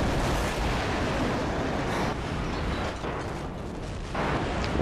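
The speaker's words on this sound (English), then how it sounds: "I don't know how I got killed by that airstrike" Loud, dense rumbling blast of an airstrike in a Call of Duty match, a sustained roaring wash of explosion noise filling the whole stretch with slight swells and dips, no voices.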